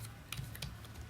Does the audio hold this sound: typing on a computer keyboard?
yes